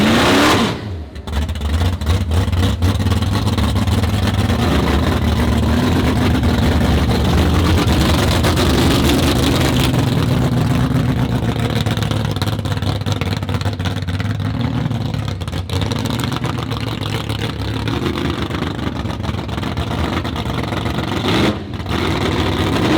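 A Mercedes car engine runs loud and close at a car show, revving up and down in sustained surges with a deep rumbling roar and no talk over it.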